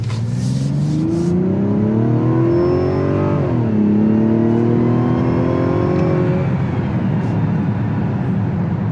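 Mazda CX-70 inline-6 engine with 349 horsepower accelerating on the road, a loud steady drone whose pitch climbs, drops briefly at a gear change near the middle, then climbs again through the next gear.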